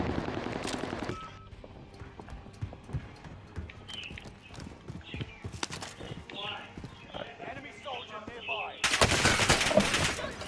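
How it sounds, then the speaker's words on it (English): Gunfire in Warzone Pacific: scattered sharp shots and bursts of varying distance crack over game noise, ending in a loud dense burst, while players talk throughout. "Oh, he's shooting me from outside."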